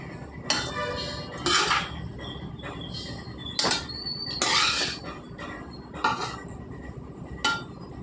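Cooled pieces of cucumber and tomato go into a mixer jar for chutney, with several sharp clinks and knocks of spoon on metal spread over a few seconds against a quiet kitchen.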